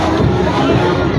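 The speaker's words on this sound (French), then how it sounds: "Voilà, accueilli par une foule immense" A large crowd of faithful welcoming an apostle at Kitutu, a dense, loud and steady roar of many voices shouting and cheering close by.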